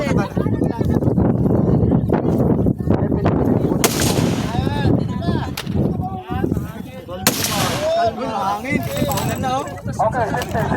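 Loud, sharp gunshots crack repeatedly during a barangay tanod firearms training session, with irregular spacing between shots and people talking over and between the reports.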